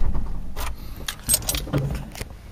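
Toyota RV being parked: a sharp clatter of a handbrake and jangling keys as the engine is switched off, a few quick close metallic clicks and rattles in a short burst.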